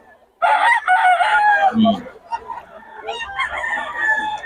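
A two-year-old pumpkin gamefowl rooster crows loudly and close, one long full crow followed by softer clucking and scattered background noise.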